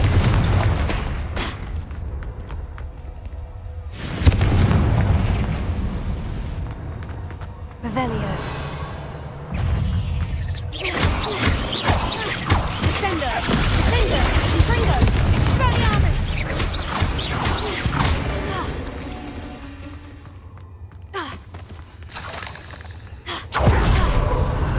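Confringo fire spell blasts in a Hogwarts Legacy cave battle, loud booming explosions and crackling impacts that keep layering over one another amid game effects, with a voice speaking at moments.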